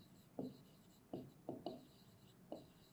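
Pen writing by hand on paper during a class 5 maths lesson: a handful of short, scratchy strokes at irregular intervals, close and fairly quiet, over a faint background hum.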